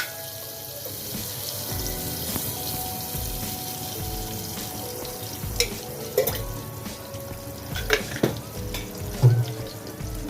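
Butter and a little oil heat in a pan for home-style pav bhaji, giving a steady low sizzle with occasional utensil clinks and knocks toward the end. No voices are heard.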